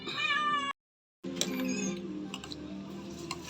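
A cat meows with a high, wavering cry, falls silent for a moment, then carries on with rougher, overlapping meows nearby.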